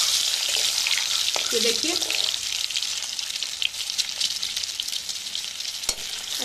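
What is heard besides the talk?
boiled eggs frying in a pan with turmeric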